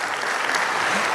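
A church congregation applauds during an Indonesian sermon, a steady wash of dense clapping from many hands filling the room throughout.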